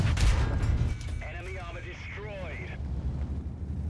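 A Centurion tank gun in World of Tanks fires with a loud, deep boom at the start, followed by rumbling battle noise and game effects as a voice speaks over it.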